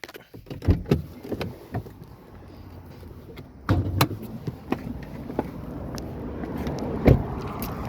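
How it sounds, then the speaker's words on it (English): Hood of a 2021 Toyota 4Runner being opened, a series of close mechanical clunks, latch clicks and thumps with rustling between them and a sharp knock late on. "let's pop the hood and check that out real quick"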